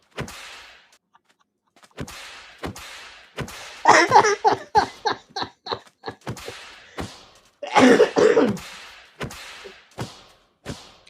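Two bursts of harsh, rough coughing, each a quick string of hacks, separated by sharp clicks and thumps and some faint breathy sounds.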